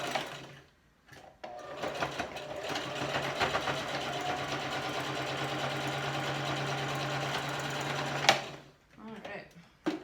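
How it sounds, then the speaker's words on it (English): A sewing machine stitches cloth masks in one long, fast, steady run of rapid needle clatter with a motor whine. It starts after a brief pause and stops abruptly near the end, followed by a few handling clicks. "so now we are finished sewing our masks."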